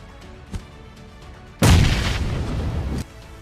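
A bomb blast in a video game erupts as one loud, sudden boom that sustains a dense rumbling roar for about a second and a half before cutting off, with a small thump just before it.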